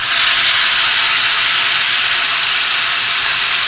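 Boiled large and small goat intestines are dropped into a hot frying pan for kudal chukka, setting off a loud, continuous, close hissing sizzle that holds steady throughout.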